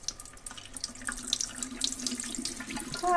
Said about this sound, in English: For 5 or 6 times we need to wash the rice.